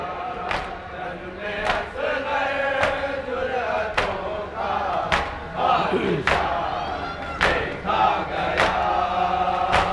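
Large crowd at a Muharram procession, a dense roar of many voices with shouted cries and rhythmic sharp beats recurring about once a second throughout.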